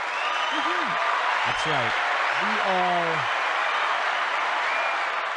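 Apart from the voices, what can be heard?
applause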